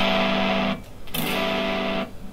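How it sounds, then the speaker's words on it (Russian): Distorted electric guitar through the distortion channel of a Fender Champion 100 combo amp: a sustained chord, a short break, then another sustained chord, loud and up close. "Посмотрим, какие здесь есть у нас дисторшены"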